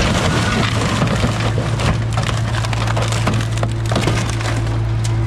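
A huge steel beam crushes a Ford Bronco, producing loud, continuous cracking, splintering and crunching under a heavy low hum, with no talking.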